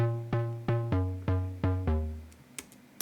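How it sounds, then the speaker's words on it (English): A punchy trance synth from a Logic Pro Alchemy patch plays five evenly spaced, bright plucked chords that decay quickly, then a few faint clicks follow. "with more of a proper synth, which is an alchemy patch."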